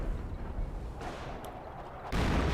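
Artillery barrage of 25-pounder guns in the strategy game Company of Heroes, a dense rumble of repeated booming impacts that swells louder near the end, with no talk over it.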